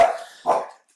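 Dog barks twice indoors, two short, loud, close woofs about half a second apart with no talking over them.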